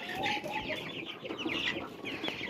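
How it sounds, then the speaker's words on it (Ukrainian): Four-week-old chicks peep and chirp in quick, overlapping high calls, a busy flock close by with soft clucks underneath. "Це мої курчата, яким сьогодні 28 днів."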